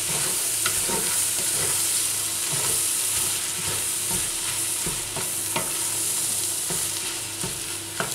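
Lamb liver sarma filling with dried mint is stirred in a hot pan, a loud continuous sizzle broken by regular scraping strokes of the spoon, close up and with no talk.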